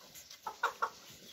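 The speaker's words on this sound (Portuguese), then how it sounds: "tem que tirar esse frango daqui, os frangos perturbam eles." Chickens cluck near newborn piglets in a pen, three or four short, close clucks in quick succession over a quiet background hiss.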